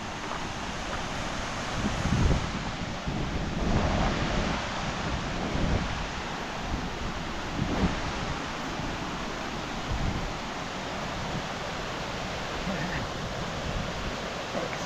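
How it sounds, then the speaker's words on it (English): A constant broadband rush of a waterfall in Tregargus valley, Cornwall, fills the whole stretch, steady and fairly loud, with slight swells and no talking. "Let's have another look at that waterfall."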